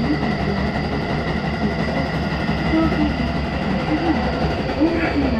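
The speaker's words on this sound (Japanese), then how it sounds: "アクセス特急は高架を上り本線と分かれ北総線に入ります。" An Access Express train climbing an elevated line and branching onto the Hokuso Line, a steady close rumble of wheels and running gear with occasional squeals, heard continuously without talk.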